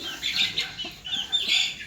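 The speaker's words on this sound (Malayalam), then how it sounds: "ഇതാണ് ഞാൻ അട അടവച്ച കോഴി" A broody hen sitting on nine eggs clucks in short, repeated bursts, close by and fairly steady, with a few louder calls in between.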